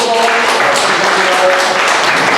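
A church congregation claps together during a Sunday service, a dense and loud burst of many hands heard close and sustained briefly, with a faint hum of voices mixed in under the clapping.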